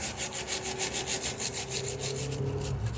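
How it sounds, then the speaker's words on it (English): Wire brush scrubbing back and forth across a bolt head on a Vauxhall Vectra GSI rear suspension, a steady rhythmic rasping of quick repeated strokes, close and fairly loud with no talk. "Let's get a wire brush on that to reveal the shape and size of this bolt head."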